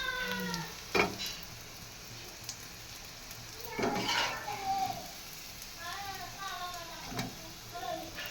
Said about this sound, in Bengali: মুচমুচা করে তোমার নানি ভাজছে